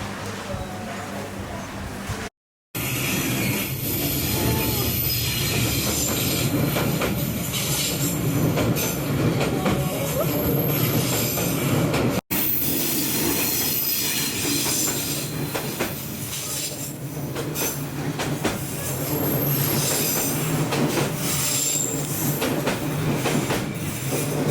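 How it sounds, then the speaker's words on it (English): Train pulling into a station in Vietnam on a hot day: loud, close rumble of rail cars with squealing wheels and clattering, sustained throughout apart from two brief dropouts, with no voices. "Waiting for the train to come."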